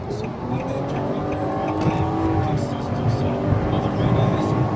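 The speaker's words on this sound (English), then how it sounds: "once you go from 60, the car actually starts pulling really hard" A 2019 Nissan Maxima SV pulls hard above 60 mph, its engine note a steady rising drone with wind and road roar filling the cabin, loud and continuous.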